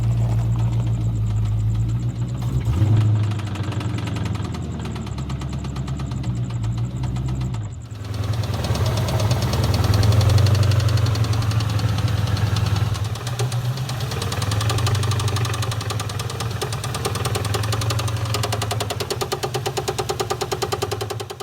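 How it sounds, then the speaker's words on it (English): A 1997 Ford Mustang GT 4.6 V8 with a rod knock runs steadily, a rhythmic knocking over a loud, close engine rumble, briefly dipping near the start before revving back up and holding for the rest. "it had a rod knock"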